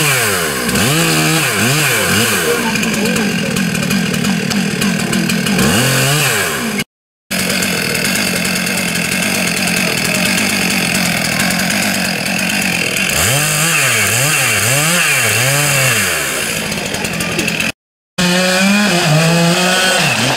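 A diesel chainsaw engine warms up loud and close, revving up and down in repeated surges with two brief cutoffs.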